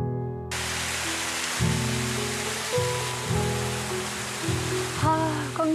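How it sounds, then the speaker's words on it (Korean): A stream flows beside a walking trail on Muaksan, giving a continuous broad rushing of water that sits beneath sustained musical tones throughout. "물소리 너무 좋다"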